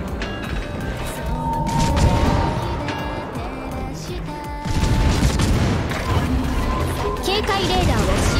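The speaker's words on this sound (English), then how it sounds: "And I can shoot him with the gun." A warship's guns fire in a World of Warships clan battle, loud booming salvos and rolling mechanical rumble layered under steady talk, with sharp reports recurring through the stretch.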